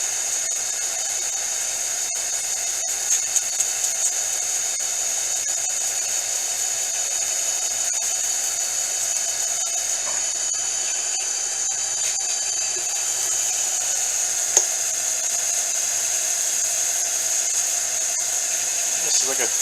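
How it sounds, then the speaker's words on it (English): An old converted wood lathe fitted with a large three-jaw metal chuck spins while polishing, giving a constant high motor whine with a steady hum beneath and a few faint ticks and clicks. "this is an old converted wood lathe, and I put a big metal chuck on, 3-jaw"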